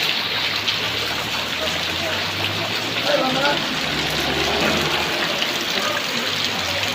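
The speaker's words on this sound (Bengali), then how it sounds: "এমন বৃষ্টি হচ্ছে যে গাড়ির চাকা চলে ঢুকে গেছে" Heavy rain pours steadily during flooding, a dense continuous hiss of water with a low rumble underneath, loud and unbroken throughout.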